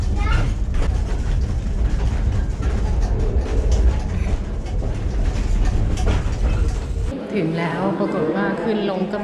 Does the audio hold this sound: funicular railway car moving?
yes